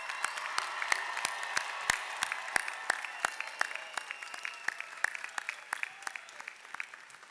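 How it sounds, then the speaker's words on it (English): An audience applauds at a New York City police academy graduation ceremony, filling the hall with steady, fairly close clapping and sharp individual claps standing out throughout. "let's have one more round of applause for our graduating class."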